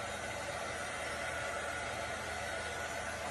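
A heat or hair dryer blows steadily to dry a transfer, a constant close whooshing hiss with no other sounds.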